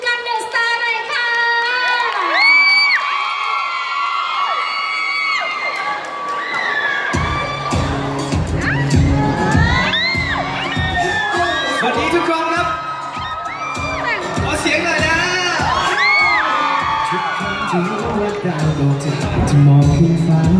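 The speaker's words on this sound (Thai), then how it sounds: "ขอเสียงปรบมือและกรี๊ดดังๆ" A live audience at an outdoor Bangkok market festival concert screams, whoops and claps loudly, with high shrieks rising over dense rhythmic clapping throughout.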